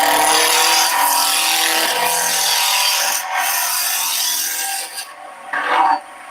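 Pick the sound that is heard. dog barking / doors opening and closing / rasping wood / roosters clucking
rasping wood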